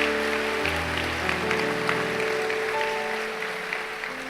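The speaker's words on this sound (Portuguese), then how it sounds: "Você pode aplaudir a Jesus bem forte" A church congregation claps steadily over a sustained musical backdrop during a sermon, the applause holding at a moderate level throughout before easing slightly near the end.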